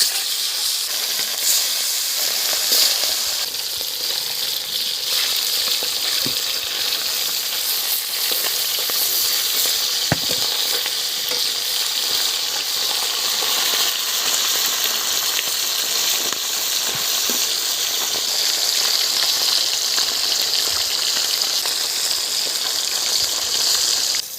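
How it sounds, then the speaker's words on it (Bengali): Chanda fish sizzles and crackles in hot oil, a steady loud frying hiss with occasional pops and stirring, no voices. "এখন আমি মাছগুলো ভেজে নেব"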